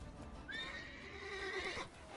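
A horse in The Witcher 3 lets out a single clear whinny at moderate distance, rising and holding for over a second before breaking off, over steady game ambience with faint hoof clatter.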